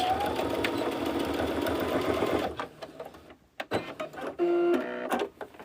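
A sewing machine runs a fast, continuous back stitch at the end of a seam on a boxy bag for about two and a half seconds, then quieter clicks, handling noises and a short whirring burst follow.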